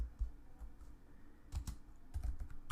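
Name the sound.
typing code on a computer keyboard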